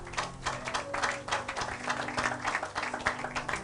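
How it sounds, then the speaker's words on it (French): Congregation applauding at a church service, a steady, dense patter of many hands clapping throughout, with a faint murmur of voices underneath. "Acclamons pour la gloire de Dieu."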